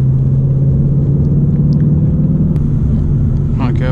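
Engine of a manual 2019 Ford Mustang GT, a loud, steady low rumble and drone that stays constant throughout, heard from inside the car.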